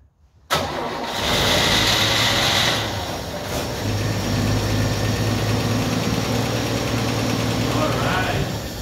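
A 1964 Chevrolet Impala being revived cranks and catches almost at once, then runs loud and close with a rough, uneven idle and a brief early surge in revs.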